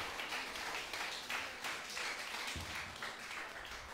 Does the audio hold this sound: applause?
yes